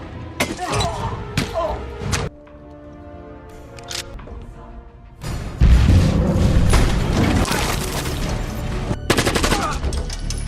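Gunfire in an action film scene as an agent shoots former comrades outside a room: loud bursts of shots and thuds, a quieter tonal stretch between them, then dense, sustained volleys.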